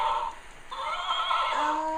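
A brown horse named Carrie neighs in a drawn-out whinny lasting about two seconds, close and fairly loud, its pitch wavering and rising toward the end.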